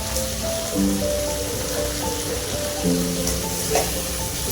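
Tomatoes sautéing in a pan with turmeric and curry leaves while cooking a South Indian lunch, giving a steady, close sizzle with a few faint tonal sounds over it.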